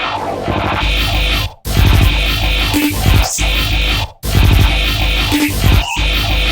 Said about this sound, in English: With the vocoder added, sounds like this.